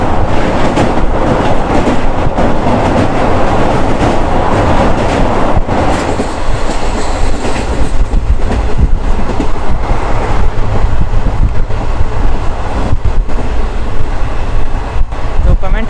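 The Samta Superfast Express runs at speed through Odisha and Andhra Pradesh, a loud, dense, continuous rumble with rattling wheel clatter heard close from on board.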